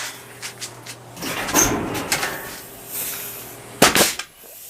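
A Central Pneumatic 21-degree framing nailer drives a nail into a doubled 2x4, giving one loud, sharp bang with a brief pneumatic snap near the end, after softer handling knocks and shuffling.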